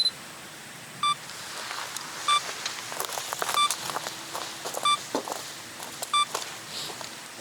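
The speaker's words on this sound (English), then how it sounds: "I have a 10-second timer set up on there, and we're going to get a few shots." A camera self-timer set for ten seconds beeps at regular intervals about a second apart, short clear tones over faint outdoor rustling and footsteps on a mountain trail.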